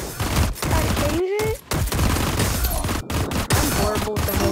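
Hand cannon gunfire in the Skyfront VR video game comes in rapid, loud bursts of shots with brief gaps, close and continuous over several seconds, with a few faint voices underneath.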